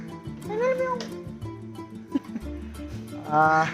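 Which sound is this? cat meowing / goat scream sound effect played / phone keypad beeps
cat meowing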